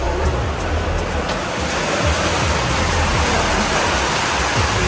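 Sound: heavy rain

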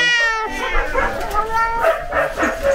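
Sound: cats meowing at an animal shelter

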